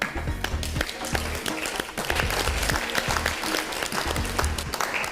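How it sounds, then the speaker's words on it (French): A small group applauds steadily after a cooking challenge, dense clapping sustained throughout at close range, with a faint murmur of voices beneath. "Je crois que vous pouvez vous applaudir."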